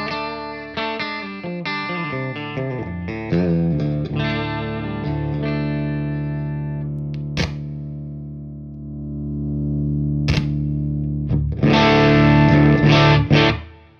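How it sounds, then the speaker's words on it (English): Electric guitar with hot pickups played through an op-amp boost pedal, clipping slightly: a string of picked single notes and chords, then sustained ringing chords and a loud strummed burst near the end, with no talking. "As you can hear, it is distorting a little bit. Does clip just a little bit."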